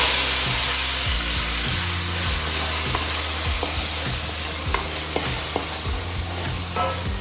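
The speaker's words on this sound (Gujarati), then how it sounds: "તો મિત્રો આપણે વટાણા થોડા તેલમાં શેકાવા દઈશું થોડી વાર આપણે આના ફ્રાય થવા દેશું" Green peas frying in hot oil for a green turmeric curry, a steady sizzle with occasional scraping stir strokes and faint taps, close and continuous with no talking.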